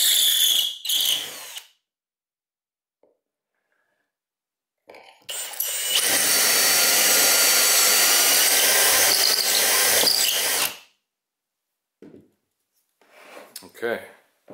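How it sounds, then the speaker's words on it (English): A power drill bores pocket holes through a Kreg K5 jig hooked to a shop vac, a loud whining run of about five seconds framed by brief clatter, clamp sounds and a few quiet knocks. "how the bit goes down through there and the shavings will exit those holes."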